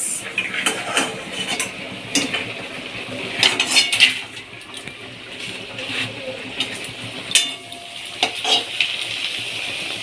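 Papads fry in hot oil in a home kitchen, bursts of crackling sizzle rising and falling among clattering pots and utensils, close and fairly loud, with no talking.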